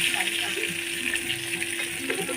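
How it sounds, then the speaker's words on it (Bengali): Hilsa fish heads fry in hot oil in a wok, giving a steady, close crackling sizzle throughout. "ইলিশ মাছের মাথাগুলো বেশ লাল করে ভেজে নেবো"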